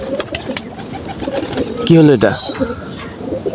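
Pet pigeons released at home give a brief coo cluster that rises over outdoor background noise, while a person speaks nearby.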